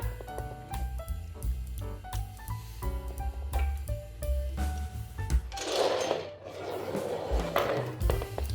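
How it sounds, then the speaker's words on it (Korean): Metal parts of an IKEA RÅSKOG cart clank and knock in irregular bursts as it is assembled with bolts, followed by a rougher scraping rattle of turning hardware. "볼트로 조립을 해줍니다."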